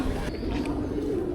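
Pigeons coo low and steadily close by in Old San Juan, a soft continuous murmur that holds for the whole stretch over street ambience.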